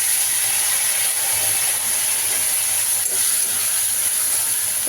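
Prawns frying in a pan with ginger-cumin paste, giving a steady, loud hiss and sizzle that runs unbroken throughout with no talking.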